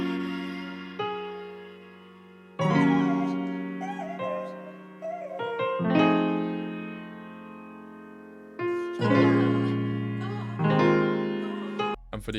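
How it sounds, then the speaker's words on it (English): A sampled vocal phrase layered over a processed, reverberant piano loop, with sustained chords and melodic sung lines that swell and decay in phrases, loud and upfront with no speech. "We then added these vocals from Splice to give it a vibe straight away."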